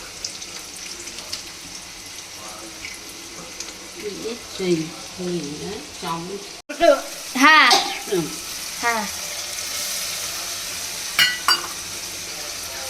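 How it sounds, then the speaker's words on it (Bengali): Onions frying in a pan with green cardamom and dried red chili for vegetarian ghugni make a steady sizzle, with stirring sounds and a voice talking over it. "ছোটো এলাচ, শুকনো লঙ্কা দিয়ে পেঁয়াজ দেওয়া হয়েছে।"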